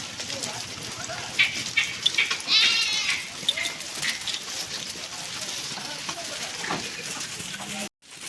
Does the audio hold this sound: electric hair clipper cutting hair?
no